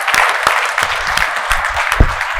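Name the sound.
audience applause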